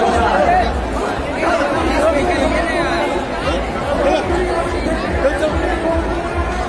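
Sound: large crowd at Durga idol immersion in Munger

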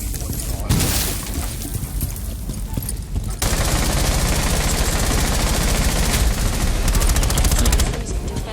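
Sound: gunfire in Rainbow Six video game

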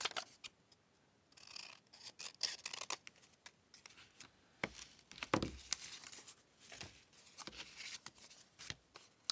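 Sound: cutting away paper for junk journal embellishment

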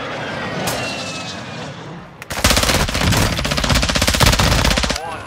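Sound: machine gun fire in Call of Duty DMZ video game

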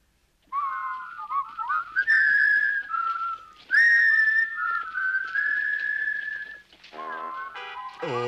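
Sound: whistled tune in Lucky Luke cartoon

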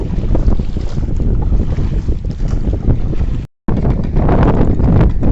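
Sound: strong wind

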